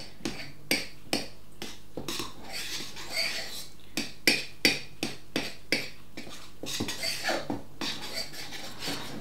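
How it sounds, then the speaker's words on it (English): A knife scrapes and clinks against a bowl while mixing hot cross bun loaf dough, giving a steady series of sharp metallic taps and rasps close by with no talking. "So I'm going to use a knife."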